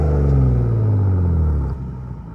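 A Gen3 Ford F-150 Raptor fitted with an AWE catback exhaust revs in normal mode, a loud, close, steady deep exhaust drone that eases off toward the end.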